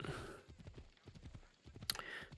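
Horse hooves clip-clopping at a steady walk while riding along a road in Assassin's Creed Odyssey, a soft, rhythmic and fairly faint beat with one brief sharper sound near the end.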